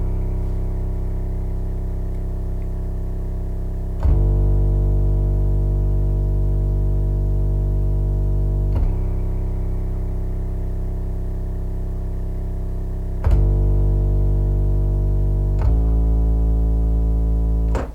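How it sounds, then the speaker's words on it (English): Deep 808 bass from the Serum synth follows piano chords, long sustained low notes changing pitch every few seconds, loud and alone with no talking. "the next instrument that I added using this keyboard actually was an 808 that's also from Serum"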